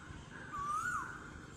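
A single rising whistled call of an Asian koel in a rain-soaked garden, clear and moderately near over a quiet background.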